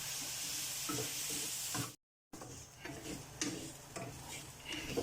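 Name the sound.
chana dal sautéing with raisins in pan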